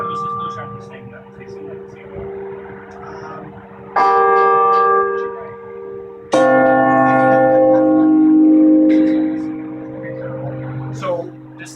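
Carillon bells ringing in a bell tower struck by large hammers, sustained overlapping tones swelling louder in two stages, with people talking quietly underneath.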